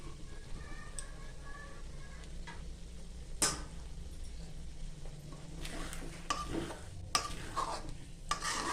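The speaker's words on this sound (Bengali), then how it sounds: "ধনেপাতা দিয়ে একটু নেড়ে দেবেন।" Sabudana khichuri with fresh coriander leaves is stirred in a pot, producing soft scraping and occasional sharp clicks of a spoon against the vessel over a faint low hum, quiet and close.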